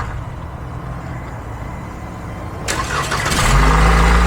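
After a stretch of quiet background, a 2014 Chevy Impala cranks over and fires up, its engine then running at a loud, steady idle nearby.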